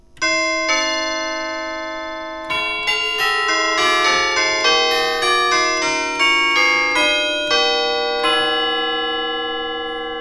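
A 1950 Deagan Canto electric bell carillon from Chicago playing a slow melody, each bell-like chime struck clearly and left to ring and overlap, loud and close with no voices.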